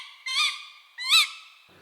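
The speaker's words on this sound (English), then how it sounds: "Just 2 days ago, I got some amazing recordings of tawny owl," A female tawny owl gives two sharp, harsh calls at night, the second slightly louder, clear and fairly close against a quiet background.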